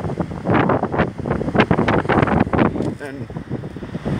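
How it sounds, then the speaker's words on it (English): Gusty wind buffets an outdoor microphone in rough, uneven bursts, loud and close, under a person talking. "It's a little windy"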